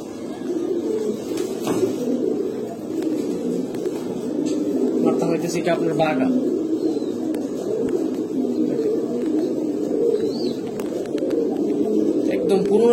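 A group of old-line pigeons, among them a silver Bagha, coos steadily in a thick nearby murmur while someone talks over the birds.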